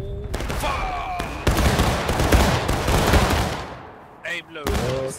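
Musket volley fired by a company in a Civil War battle game, a loud crackling massed discharge that rolls on for a few seconds, with shouted commands before and after.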